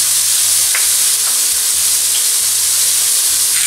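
Cassava frying in a pan with thyme is stirred, and a steady loud sizzle hisses underneath a few faint scraping strokes of the utensil. No one speaks.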